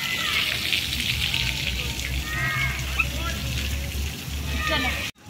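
Water splashes and pours continuously while a pet is bathed outdoors in a park, with people talking over the steady wash of water.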